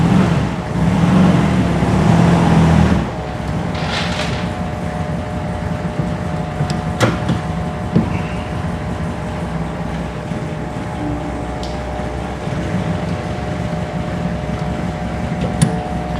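A 1970s sand rail dune buggy engine in second gear, loud and rough for a few seconds, then settling to a steadier, lower droning run with faint clanks.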